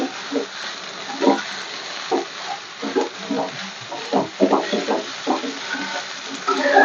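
Vegetarian chop filling frying in a pan, stirred now and then, giving soft sizzling crackles in irregular bursts, close and moderately loud with no talking.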